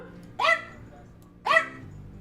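A dog gives two short, sharp barks about a second apart, close and clear against a quiet background.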